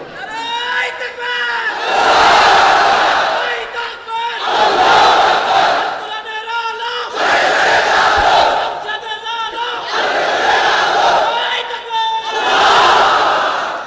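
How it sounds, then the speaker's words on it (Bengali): A large crowd at an Islamic religious sermon gathering shouts the takbir, Allahu Akbar, in loud unison, with five rising waves of massed voices, each a couple of seconds long, separated by brief pauses. "তাকবীর পড়েন তো দেখি, আল্লাহর নামে পড়েন, লিল্লাহি তাকবীর।"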